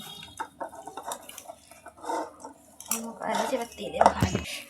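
Chilli soybean is mixed with arrowroot in a bowl by hand, producing scraping, clinking dish and utensil sounds with wet squelches, close and steady, building louder toward the end.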